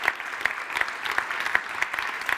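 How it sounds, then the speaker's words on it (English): A small audience at a tourism industry leaders' ceremony gives a brief, light round of applause, with sparse, distinct claps at a moderate level. "please, a round of applause"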